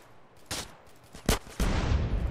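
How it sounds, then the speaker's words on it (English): Machine pistol gunfire in GTA San Andreas, a few sharp separate shots followed by a loud sustained burst of rapid automatic fire at close range. "I have a machine pistol"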